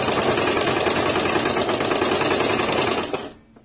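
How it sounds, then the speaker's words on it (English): A home sewing machine running a continuous straight stitch down the side seam of a top, a steady fast whirring clatter close up that stops abruptly near the end. "I'm just going to straight stitch all the way down the side."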